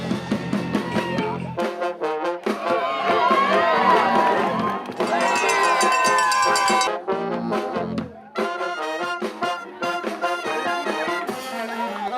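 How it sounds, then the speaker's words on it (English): Crowd of spectators, including students, cheers, yells and whoops for runners passing at the Long Beach Marathon, a loud, steady roar of voices that swells in bursts with some shouting on top. "we're excited and we're cheering them on"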